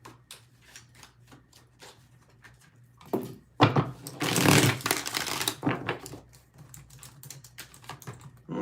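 Tarot cards shuffled by hand in a quick, crisp burst of riffling and flicking in the middle, with lighter card taps and handling before and after in a quiet room.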